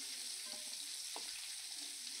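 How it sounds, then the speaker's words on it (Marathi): Prawns frying in oil, a soft, steady sizzle with a couple of faint clinks, quiet and continuous without speech. "आणि उरलेली पण आता फ्राय करून घेऊया।"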